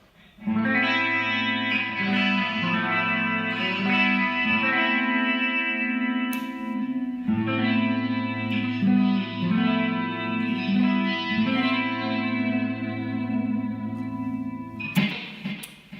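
A Washburn N4 Vintage electric guitar plays the same simple clean phrase twice, first on a Bill Lawrence pickup then a 59 pickup, with chorus-like shimmer, sustained ringing notes and a short pause between the passes.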